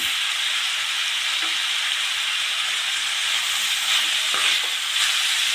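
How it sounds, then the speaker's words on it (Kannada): Moong dal frying in a pan for palak uppittu gives a steady, loud, even sizzle that continues without a break, with a few light stirring scrapes near the end and no talking. "ಫ್ರೈ ಮಾಡ್ಕೊಳ್ಳಿ"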